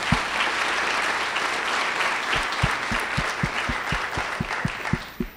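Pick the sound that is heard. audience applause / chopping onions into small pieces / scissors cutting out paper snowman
audience applause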